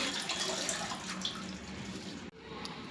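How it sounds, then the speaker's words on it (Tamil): Running water rinses sorrel greens (puliccha keerai) in a sink, a soft, steady splash and trickle with small dips and one brief break near the end. "கீரையை நம்ம இப்போது நல்லா அலசி எடுத்துக்கலாம்."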